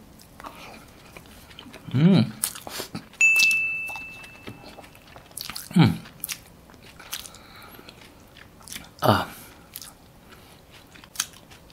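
Kuba guling wrapped in grated coconut being bitten and chewed near the mic, with a few distinct crunchy bites separated by quiet pauses and brief talk.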